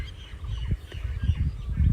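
A bird calling outdoors, with loud low rumbling noise throughout and short repeated chirps and calls breaking through at irregular intervals over about two seconds; no speech.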